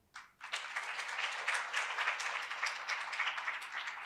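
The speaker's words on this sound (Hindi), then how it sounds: "Give yourself a very big hand." A large audience of students in a campus hall claps steadily, the applause rising abruptly after a brief pause and holding dense and even for several seconds.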